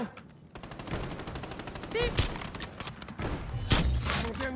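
Rapid bursts of video game gunfire crackle close and loud in repeated volleys, with people talking over the shots throughout.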